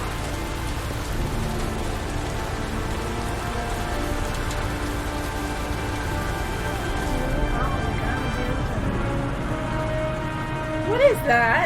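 Steady rain falls in the video game Heavy Rain, a continuous hiss of drops on surfaces that holds throughout, with quiet music tones underneath and a brief brighter sound near the end.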